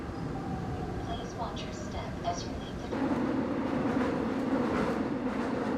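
A subway train rolls along with a continuous rumble and rattle of the carriages, growing louder partway through, with people talking over it.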